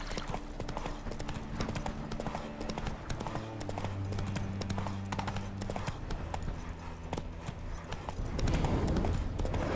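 Horse hooves clip-clop steadily in The Witcher 3, a continuous rhythmic trot under game music and ambient hum, with a rising rumble near the end.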